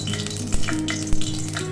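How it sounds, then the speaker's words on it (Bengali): Mustard oil heats in a pan with a close, steady sizzle, broken by two short sharp pops. "তো এই পাত্রে সর্ষের তেলটা একটু গরম হচ্ছে"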